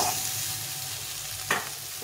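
Food sizzles and fries in a pan with cumin powder, a steady close hiss broken by a couple of short scraping stirs near the end, no talking.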